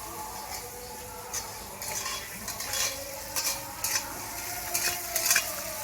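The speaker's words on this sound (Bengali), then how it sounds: "ঢ্যাঁড়স ভাজাটাও আমার হয়ে গেল" Okra fries in a pan while a utensil stirs and scrapes it, giving repeated clinking metallic strokes over a soft continuous sizzle, with no voices.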